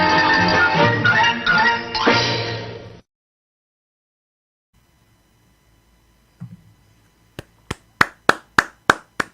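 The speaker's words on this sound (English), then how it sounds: "I'm applauding myself." One man claps his own hands about seven times in a slow, even rhythm, each clap close and sharp in a quiet room, following music that stops and a stretch of near silence.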